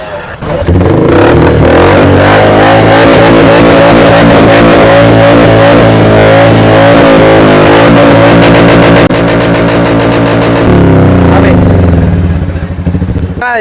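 A motorcycle with a modified silencer revs loudly and roughly up close, its raw, throaty exhaust roaring and throbbing through repeated throttle blips, with voices talking over it.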